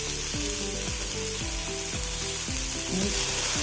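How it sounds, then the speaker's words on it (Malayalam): Sliced onions sauté in hot oil with mustard seeds in a pan for a dried shark fry, giving a loud, steady sizzle with stirring scrapes and no talk. "ഒന്ന് ഇളക്കി കൊടുക്കാം ഒന്ന് വാട്ടിയെടുക്കണം"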